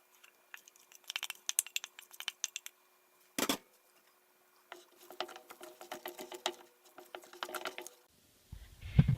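Banana mixture being stirred into a flour mixture in a bowl, heard as soft, irregular scraping and ticking strokes in quick clusters, with one louder knock partway through and a thump at the end, close and fairly quiet.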